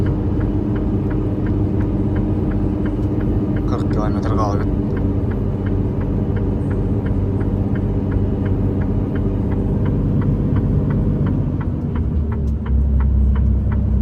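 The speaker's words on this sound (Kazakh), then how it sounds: "Тауға көтеріп келе жатырмыз, машина жүрмейді." A car engine labours as the vehicle climbs a mountain road in Spain, a steady mid-pitched drone with a faint rhythmic ticking, under close talk, before the tone drops to a deeper rumble near the end.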